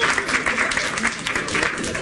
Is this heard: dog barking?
no